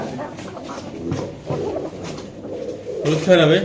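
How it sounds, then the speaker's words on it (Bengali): Several Giribaz pigeons cooing nearby at a pigeon market in low, rolling calls, steady throughout and a bit louder toward the end. "এখানে অনেকগুলো কবুতর আছে"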